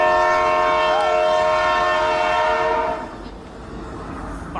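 A train sounds a long, loud chorded horn blast close by over the rumble of the passing train, then the horn cuts off and the rolling rail noise carries on alone.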